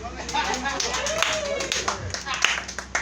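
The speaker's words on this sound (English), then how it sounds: "I appreciate the applause, though." Scattered clapping from a small comedy show audience, with a handful of sharp claps at an uneven pace. A voice talks over it at close range.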